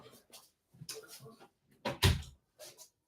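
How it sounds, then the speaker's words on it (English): An indoor door is pushed shut with a soft thud in the middle, heard close and brief among a few quieter rustles and creaks. "I'm just going to close the door."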